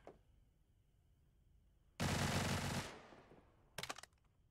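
Uzi submachine gun fire in the shooter game Badlanders: a loud, dense burst of rapid automatic shots lasting about a second, then a second short burst, over a quiet background.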